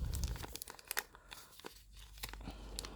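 Sheet of origami paper being folded for a Hello Kitty figure, giving soft close crinkles and a few crisp creasing rustles, faint and alone.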